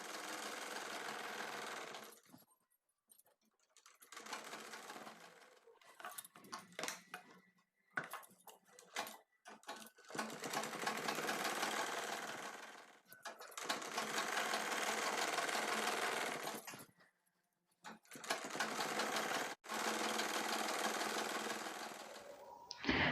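A sewing machine stitches the hem of a six-panel petticoat in several loud, steady runs of rapid mechanical whirring, separated by short pauses and small handling clicks.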